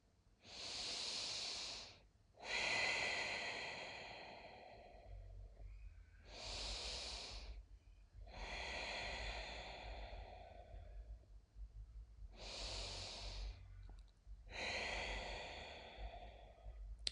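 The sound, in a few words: deep breathing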